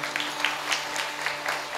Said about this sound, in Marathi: एकदा जोरदार टाळी वाज